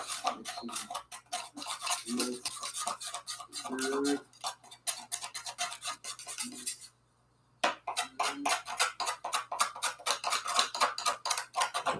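Paint is stirred in a small mixing dish, giving rapid, close, repetitive clicking and scraping strokes that run almost continuously, pause briefly, then resume, while someone speaks quietly in between.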